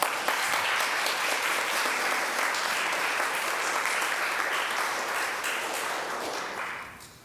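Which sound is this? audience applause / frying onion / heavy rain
audience applause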